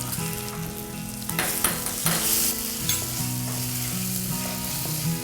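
Food sautés in a pan with chili powder and a little dried chili, sizzling steadily up close while a spoon stirs and scrapes through it, with music playing underneath.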